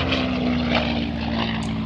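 A propeller-driven warbird, a high-back Spitfire-era fighter, flies past at the Midlands Air Festival 2023, its engine a loud, steady droning roar with a constant tone throughout and no voices.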